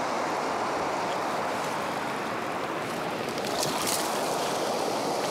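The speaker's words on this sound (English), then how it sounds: "right at the base of this waterfall" Steady rushing water from a waterfall at a brook trout fishing spot, a dense continuous broadband roar close by, with no talking.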